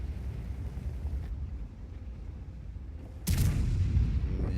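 Obj 705A heavy tank main gun in World of Tanks firing a single loud, booming shot that cuts in abruptly over steady low battle rumble.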